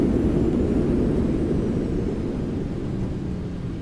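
Reverse thrust from a Boeing 737-700 landing in X-Plane 12, a loud, broad rumbling roar that stays strong and slowly eases off toward the end.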